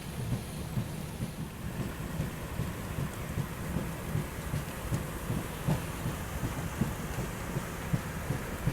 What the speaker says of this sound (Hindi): और क्या बारिश हो रही है बॉस।